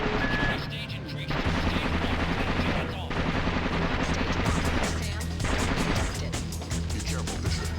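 Dense gunfire from a video game rattles continuously, with rapid automatic bursts and heavy shots over a busy battle background, loud and unbroken throughout.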